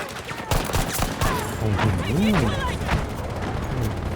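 M1 Garand rifle gunfire in a Conquest-mode shooter video game, sounding as a dense, loud burst of overlapping shots with other weapons crackling around it, with voices talking over the battle.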